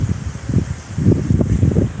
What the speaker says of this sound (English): right now this is 26 mile an hour gust winds